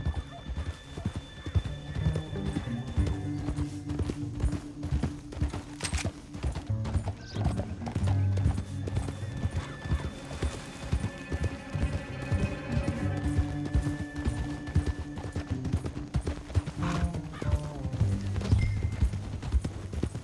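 Rapid galloping hoofbeats from several horses with occasional neighing in Red Dead Redemption 2, a busy mix of thudding clip-clops and background game sounds.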